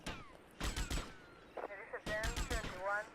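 Bursts of video game gunfire from GTA Vice City, several rapid broadband shots in two clusters, loud and close, with a brief tonal in-game sound between them and a voice talking over parts.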